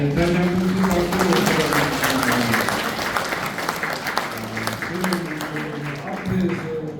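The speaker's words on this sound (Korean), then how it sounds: "다시 한번 큰 박수로" Audience applause after a lecture, steady clapping sustained throughout with a voice talking over it in the first seconds and again near the end.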